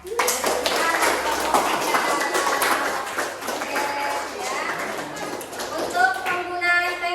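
Classroom applause from a group of students, a loud sustained wash of many hands clapping close by throughout, with voices mixed in and some cheering toward the end.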